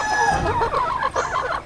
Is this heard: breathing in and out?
no